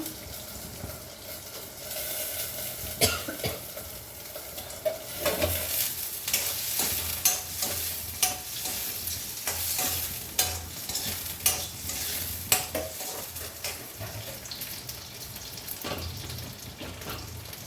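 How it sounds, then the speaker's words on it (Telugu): Chopped ridge gourd sizzling in hot oil in a pan while a spoon stirs it, steady close frying hiss broken by repeated sharp scrapes and knocks against the metal, with no voices. "ఇట్లా వేయించుకుందాము"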